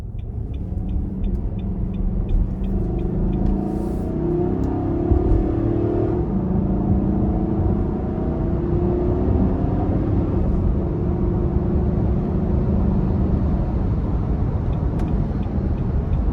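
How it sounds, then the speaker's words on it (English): A 2024 Nissan Armada SL SUV accelerating hard onto an interstate, with a loud, steady engine drone and rising rumble heard from inside the cabin, building smoothly over several seconds. "we're gonna give it a nice big pull getting on the interstate here"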